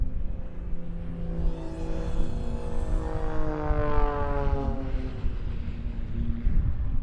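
A jet-powered Pitts aerobatic aircraft flies at an airshow. Its loud, continuous engine drone holds for the whole stretch, with harmonic pitches that sweep up and then settle as the plane passes and manoeuvres overhead.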